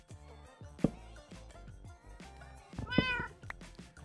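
A Minecraft cat meows twice, sharp and clear, amid game sounds and low background noise, with no talking.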